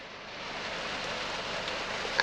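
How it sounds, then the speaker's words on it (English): Steady rain falls in a thunderstorm, a soft, even hiss that builds slightly, with a brief louder patter at the very end. "Whoa, beautiful rain. But this one is a big rain now."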